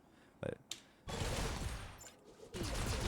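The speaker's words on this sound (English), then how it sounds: "You can see it here when I use my shotgun skill, my Q." Shotgun skill blasts from the video game Crystal of Atlan: a couple of brief sharp bursts, then a sustained loud crackling barrage with a renewed surge near the end.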